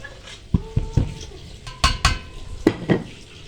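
A steel bowl and metal utensils clank and clink sharply as gram flour is added for spinach and onion pakoras, with a handful of close, distinct knocks and scrapes spread across a few seconds.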